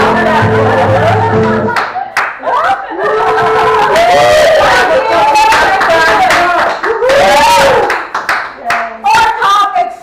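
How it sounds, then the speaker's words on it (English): Audience at a Brighton Fringe comedy show claps hands loudly and continuously, with laughter and a few shouts mixed in as a singing voice fades out. "you clap your hands"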